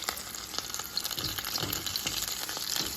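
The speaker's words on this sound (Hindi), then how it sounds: "समोसे फ्राई कर रहे हैं।" Samosas deep-frying in hot oil give a steady, close bubbling sizzle with scattered crackles and pops throughout, no voices.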